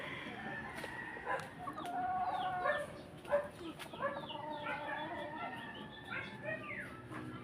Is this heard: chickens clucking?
yes